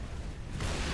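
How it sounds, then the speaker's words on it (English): A Wraith mortar blast from the Halo video game, a loud low boom that swells and rumbles through the second, with a brighter, broader burst arriving near the end. "taking him out with a Wraith mortar"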